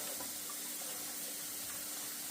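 Cold tap water runs in a steady, soft rush as calamari is rinsed under it.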